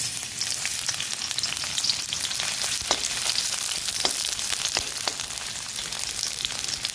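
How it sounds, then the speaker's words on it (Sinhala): Chopped onions and other kottu ingredients fry in hot oil in a home kitchen, giving a loud, continuous crackling sizzle close to the mic with scattered sharp pops and no voices. "මේක පොඩ්ඩක් මේ පාට වෙන්න මේක ටිකක් බැදෙන්න ආරම්භ"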